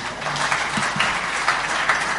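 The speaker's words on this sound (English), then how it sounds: "And I want you to clap harder so that he can continue with that same spirit. So please clap for him again." Audience applause in a hall honouring the Executive Secretary of IGAD at a speech on the state of the region, a steady even wash of clapping held at moderate level for the whole stretch.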